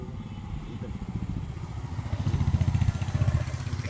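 Royal Enfield motorcycle, a smaller sibling of the Himalayan, idling with a low thumping single-cylinder pulse that grows louder and more pronounced near the end.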